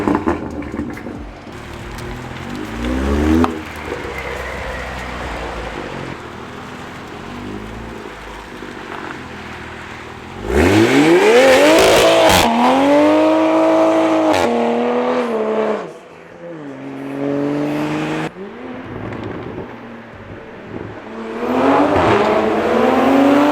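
Toyota Supra with a loud aftermarket exhaust, first idling and blipping, then roaring hard as it revs up and passes close by, followed by another rising revving burst near the end.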